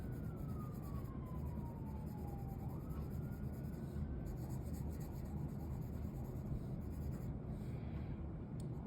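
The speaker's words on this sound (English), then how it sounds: "Again, this is a 2B pencil." A 2B pencil shades on paper with a steady, soft, continuous scratching. It is faint and close, with a quiet siren wailing far off in the background.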